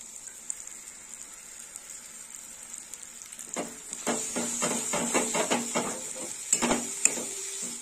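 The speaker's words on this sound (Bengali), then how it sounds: "মশলাটা ভালো করে আরো কষিয়ে নেব।" Masala with tomatoes frying and being stirred in a pan for Rohu fish kalia: a steady faint sizzle, then a run of scraping, clattering stirring strokes growing louder over the last four seconds.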